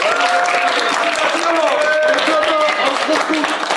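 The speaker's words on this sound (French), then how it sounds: "applaudissements" Dense applause from a crowd during a French-language live stream, a steady wash of clapping filling the whole stretch, loud and continuous, with tonal voices or music running over it.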